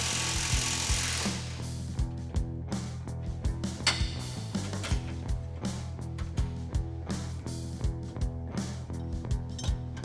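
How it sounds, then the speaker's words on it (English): A power tool works at the factory bump stop and retaining bolts on an F-250 truck, its motor whirring steadily while it is punctuated by repeated sharp metallic clicks and ratcheting taps, close and fairly loud. "We'll start by removing the factory bump stop and the retaining bolts."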